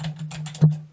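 Computer keyboard keys tap out a command in a Linux terminal, a quick burst of several soft clicks with one firmer keystroke near the end, close and isolated over a steady low hum.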